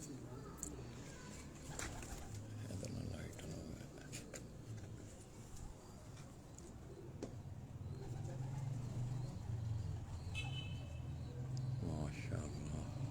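Pareil pigeons cooing on a rooftop, soft low coos recurring over a steady outdoor hum, with scattered chirps, a few sharp taps and a brief whistle-like tone, under background talk.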